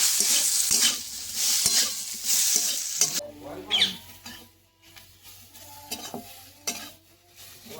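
Elephant apple (chalta) pieces fry lightly with salt and turmeric, first a loud bright sizzle with stirring, then a quieter stretch of scattered spatula scrapes and taps; no one speaks.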